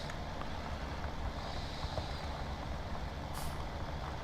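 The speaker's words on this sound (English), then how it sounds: "We're doing some fast, high-speed plowing." A tractor in Farming Simulator 17 plows at high speed, its engine a steady close rumble with a constant broadband churn and no pauses.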